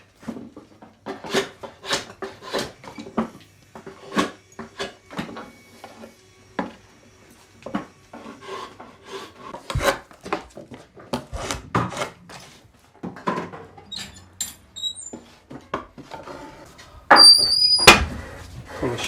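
Edges of a chestnut wood trug handle being rounded into a D-shaped profile, a close, irregular series of short scraping and cutting strokes on wood with brief gaps, with no talk.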